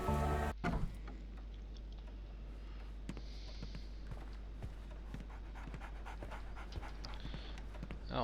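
A big dog pants in the Sherlock Holmes The Awakened video game, with quick rhythmic breaths close by that carry on steadily, scattered soft thumps in the background, and no talking.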